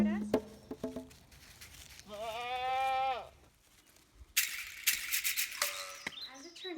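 Goats bleating during a goat yoga session: several close, wavering bleats, one long drawn-out cry in the middle, with rustling and handling noises between calls.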